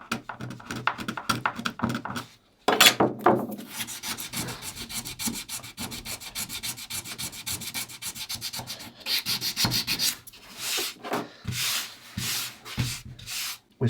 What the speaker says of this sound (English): We've finished sanding that out with 80 grit now.